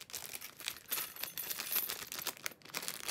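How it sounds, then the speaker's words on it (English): Thin plastic wrapping on a WOODZ fan kit crinkles and rustles continuously up close, with bright, dense crackling bursts and no voice over it. "Let's hope that I won't rip the plastic"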